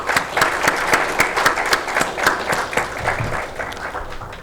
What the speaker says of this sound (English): May I please request you all to give them a big hand.